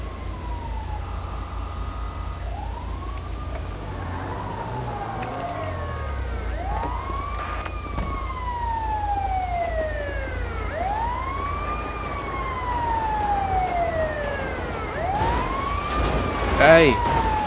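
Ambulance siren in the video game GTA V: a repeated wailing sweep that rises and falls steadily, sounding fairly close, over a low rumble of game traffic and engine noise.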